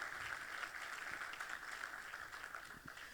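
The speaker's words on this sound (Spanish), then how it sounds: "Denle un aplauso al Señor entonces" Steady applause from a church congregation, a continuous wash of clapping with no pauses, somewhat distant and moderately quiet.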